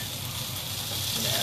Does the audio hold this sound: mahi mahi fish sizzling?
yes